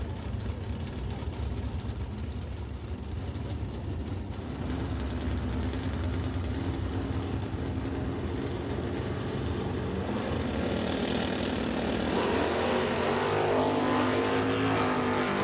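Drag racing cars, one of them a Chevy Nova, roar down the strip at a tire-series race, a loud sustained engine drone that swells and shifts pitch toward the end as the cars pass.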